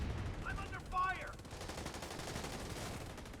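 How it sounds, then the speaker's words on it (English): Video game gunfire crackles in rapid bursts at a moderate distance, mixed with a brief voice and continuous background battle noise. "I'm under fire!"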